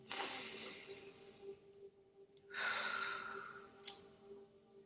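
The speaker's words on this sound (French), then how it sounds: "Donc je vous demanderai de prendre une grande respiration." Slow, deep breaths during a guided prayer meditation: a long airy inhale, a pause, then another full breath, close and soft against a faint steady hum.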